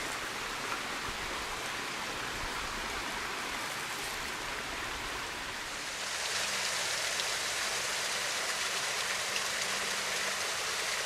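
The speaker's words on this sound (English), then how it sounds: "Neat little waterfall right below the old car graveyard up there." A small waterfall below an old car graveyard in the woods pours in a steady, hissing rush of falling water, heard alone with no voices, growing slightly louder partway through.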